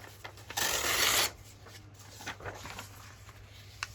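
Paper pages being torn off for a junk journal collage, one loud ripping tear lasting about half a second, then quieter handling and rustling of paper close by.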